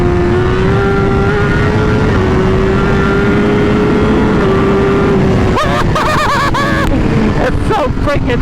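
A 2019 Honda CBR1000RR SP motorcycle accelerating hard, its engine a loud, steady rising whine heard through heavy wind noise, then quick upshifts with the pitch dropping and climbing again.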